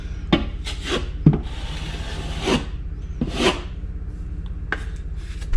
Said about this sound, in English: I'm taking my blade and I'm pushing it against the wall. I'm not pushing hard, but I'm dragging it straight down.